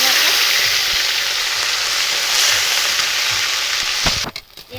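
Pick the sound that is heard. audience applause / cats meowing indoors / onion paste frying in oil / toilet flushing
onion paste frying in oil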